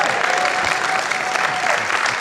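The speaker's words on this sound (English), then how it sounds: "this is where I pause for applause." Audience applause from a live medical lecture crowd, a steady dense wash of clapping hands that fills the whole short stretch at an even loudness with no voices over it.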